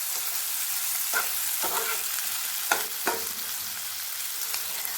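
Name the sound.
onions frying in a pan over low heat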